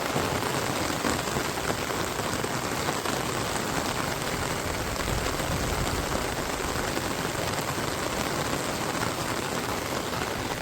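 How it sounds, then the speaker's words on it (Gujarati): Heavy monsoon rain pours down steadily and densely on a flooded street, a constant loud hiss of drops drumming on surfaces with no pauses. "સતત એક જ ધારો વરસાદ પડે છે અડધી કલાકથી"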